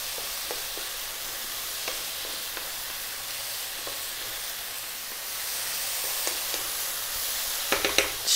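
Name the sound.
stirring mushrooms for tom yum soup in a pan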